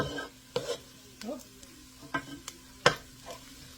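Clam chowder base thickening in a pot, stirred now and then: soft bubbling and sizzle broken by scattered spoon knocks and scrapes, close and fairly quiet, no talking.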